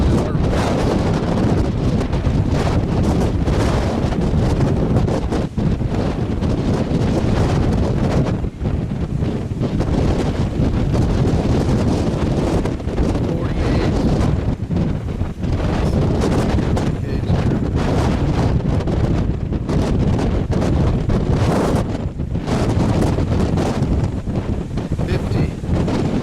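Strong high desert wind in Ocotillo gusts at around 30 to 50 miles per hour, buffeting the microphone with loud, continuous rumbling roar and flutter throughout.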